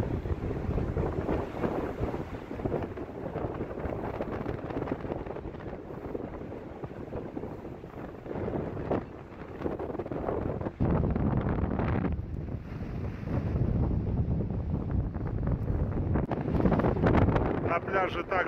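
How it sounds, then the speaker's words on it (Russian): Strong wind buffets the microphone at a beach on Lake Tahoe, California, in a loud, continuous roar with gusty surges, while a person talks underneath. "Прям резко поднялся вот такой ветер."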